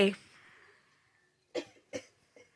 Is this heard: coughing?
yes